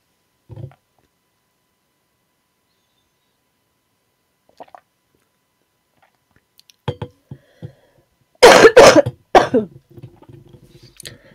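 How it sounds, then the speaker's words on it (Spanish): A few separate coughs and throat-clearing sounds spaced out over several seconds, ending in a loud burst of harsh coughing up close. "La tos."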